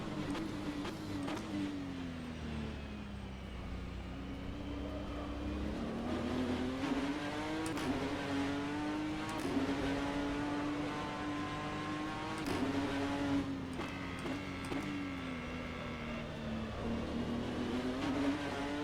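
Simulated BTCC NGTC race car in rFactor 2 drones steadily, its engine note rising and falling through gear changes and lifts under braking, with a whirring tone layered above. It stays continuous and fairly close, and no one talks.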